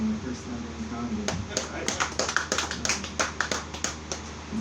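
An open mic comedy audience claps for a comedian, with a burst of sharp, scattered hand claps that thins out toward the end, over a low room hum and a voice.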